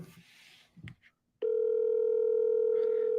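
A steady telephone tone sounds loud and continuous after a few moments of faint movement and a short pause, holding at one unbroken pitch while placing a call about a property offer.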